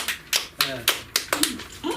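A sparse comedy club audience claps after a joke: a handful of sharp, separate claps spaced about a quarter second apart, close and modest in volume, with a voice faintly underneath.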